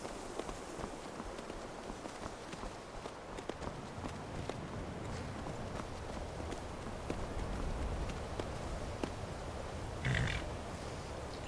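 Horse hooves in the video game Skyrim, a steady run of soft clip-clop footfalls over a constant background bed, with no talking.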